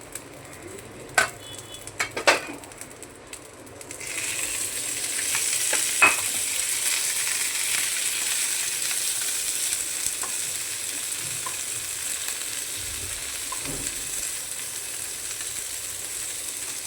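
Tender okra pieces fry on a hot griddle, a steady soft sizzle building after a few seconds, with a few sharp clinks of a utensil stirring at the start and no talking.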